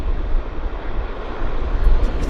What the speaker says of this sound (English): 321 is taxiing in nicely